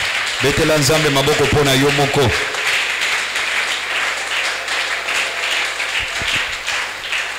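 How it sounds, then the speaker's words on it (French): Church congregation clapping and cheering in praise of God, a burst of applause with loud voices calling out at the start, then settling into sustained, slightly distant clapping and crowd noise. "Est-ce que tu peux acclamer Dieu pour toi-même?"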